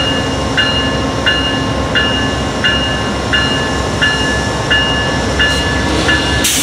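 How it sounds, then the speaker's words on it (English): Amtrak 20, a passenger train, rolls out of Salisbury station in North Carolina. It makes a loud, steady rumble with evenly spaced clicks from the wheels on the rail joints, and there is no talking. "And here comes Amtrak 20 now departing Salisbury."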